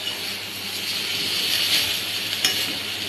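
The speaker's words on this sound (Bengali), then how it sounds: "সবজিগুলো ভালো করে ভেজে নিলাম।" Mixed vegetables for Bengali shukto, among them potato, sweet potato, carrot, papaya, pumpkin, drumstick, eggplant and bitter gourd, frying in a pan: a steady, close hiss of sizzling with a few faint clicks, no talk.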